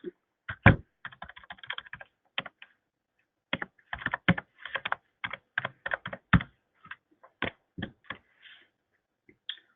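Fingers type a username and password on a computer keyboard in scattered bursts of crisp, close key clicks with short pauses between groups.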